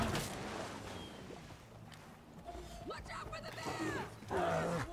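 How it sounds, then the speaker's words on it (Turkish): A bear roars in Far Cry New Dawn, a rough growling bellow rising near the end amid game ambience, with players talking throughout. "Oğlum ayı da geldi arkadan."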